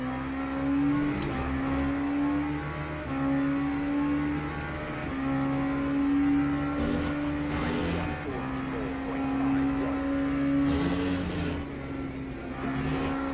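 An LMP3 prototype race car in the Le Mans Ultimate racing game, its engine note holding steady and rising in long sustained tones as another LMP3 draws close, continuous and fairly loud throughout.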